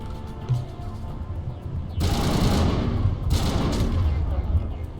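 Gunfire in Mass Effect Legendary Edition: a quiet stretch of low rumble with a soft voice, then two loud bursts of rapid automatic fire that crackle on and off. The shots are heavy, close and sustained.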